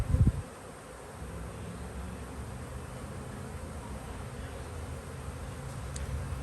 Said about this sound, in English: That's a nice amount of bees right there